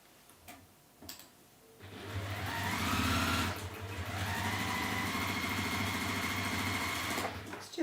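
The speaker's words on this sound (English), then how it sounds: "And then I would just top stitch those down." A sewing machine top stitches the handle seams of a modern handled bag, starting after a few clicks and running in a steady close, loud whirring hum for several seconds before slowing to a stop.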